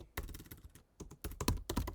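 Keys clack on a computer keyboard as Java code is typed, in quick irregular bursts of close, crisp keystrokes with a short pause in the middle.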